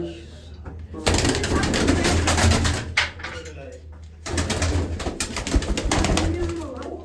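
Pigeons cooing and fluttering nearby, with steady low coos repeating through the clip over a busy background of voices and rustling.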